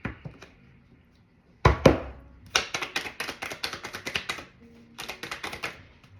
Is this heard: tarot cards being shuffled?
yes